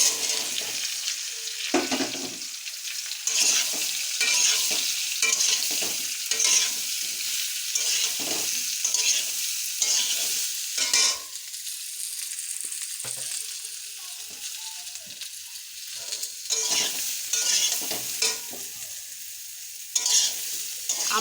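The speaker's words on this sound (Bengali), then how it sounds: "আমটা দিয়ে এরকম ভালো করে নাড়তে হবে একটু।" Mango pieces stirred in a pan over a five-spice tempering, a spatula scraping and turning them in repeated strokes while a soft sizzle of frying runs underneath, fairly quiet and close, with no talking.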